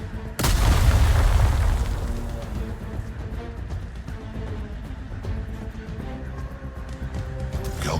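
A grenade goes off in the sci-fi miniatures game Moonbreaker: a loud, sudden boom with a heavy low rumble that fades into a sustained layer of game music and ambience.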